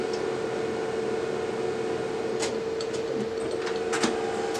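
A Brother HL-3075CW color laser printer calibrates after a drum replacement, giving a steady mechanical hum with a few faint ticks and clicks near the end, with no voices.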